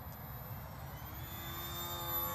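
A boxwing model plane flies in the distance, its faint, steady motor drone holding a thin high whine over a low rumble, with no voices.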